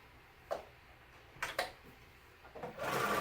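A sewing machine stitching palazzo pants: a few sharp ticks and clicks as the fabric is turned, then the motor starts up near the end with a steady, close whir.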